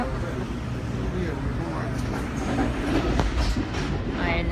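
Trains at Sunnyside Yard in New York make a steady rail rumble with faint clicking, heard at moderate distance beneath people talking throughout.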